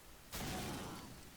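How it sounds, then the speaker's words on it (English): Grenade blast in the World War II shooter Medal of Honor: Allied Assault, set at Bizerte Harbor: a sudden broad boom that hangs on as a sustained rumbling roar for about a second. "I suppose I could just throw a grenade down."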